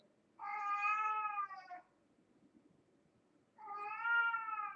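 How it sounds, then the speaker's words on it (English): Two long meows from a house cat, each over a second with a pause between, heard up close against quiet room background, with nobody speaking. "You ever hear a cat do that?"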